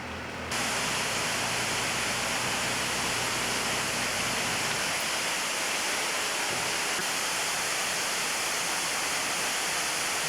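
Rushing mountain waterfall near the ocean in Alaska, a dense, steady roar of falling water filling the whole scene without a break, close and loud, with no voices.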